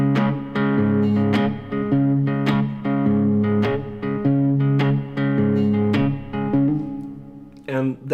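A guitar plays a riff as a steady eighth-note shuffle line, each note picked cleanly in an even repeating pattern, loud and up close for about eight seconds.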